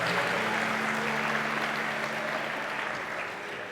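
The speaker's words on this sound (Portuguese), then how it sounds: "Aplauda mais forte que é para Ele." A church congregation applauds at a service, a dense, even burst of clapping that holds steady and then eases slightly toward the end.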